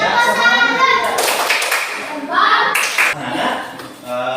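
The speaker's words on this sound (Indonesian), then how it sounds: "Kasih tepuk salut kelompok 3." A classroom of students claps together in a rhythmic salute pattern for a group of classmates, loud patterned bursts of hand claps interrupted by pauses, with children's voices and a teacher talking in between.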